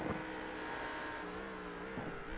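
Race car engine in the iRacing sim at Le Mans, heard from behind Reece Grant's car: a steady droning engine note holding roughly constant pitch with a slight dip and recovery, moderately loud, no talking.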